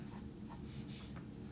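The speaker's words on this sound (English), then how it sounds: "then I'll go back and just loosely create that same motion over my paper with the pencil" Pencil lightly sketching loose strokes of a portrait's head and hair on paper, a soft continuous scratchy rustle with faint repeated stroke accents, close and quiet.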